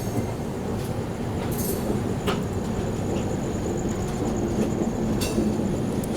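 Rumbling rail noise of an Indian express train at a station loop, as the Bangalore Rajdhani overtakes the Tamil Nadu Superfast Express; a steady, loud roar with occasional wheel squeals and clicks, no voices.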